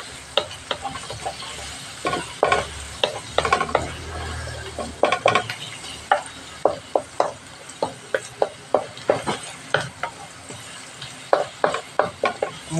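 Squid stir-frying in a large wok, with repeated sharp scrapes and clacks of a spatula against the metal over a soft sizzle, in a steady rhythm of strokes that carries on throughout.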